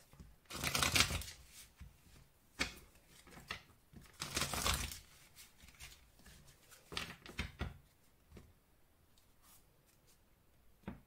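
Oracle cards are shuffled by hand in several bursts of riffling and sliding. Softer taps and handling noises fill the gaps between them, close and quiet.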